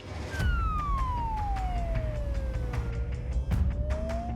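An ambulance siren in Australia wails in a long falling-and-rising sweep, fairly close, over a steady rumble of traffic.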